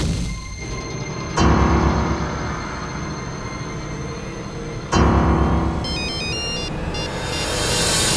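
A mobile phone ringtone plays a short electronic melody near the end, over steady rumbling train noise with two loud bursts of clatter.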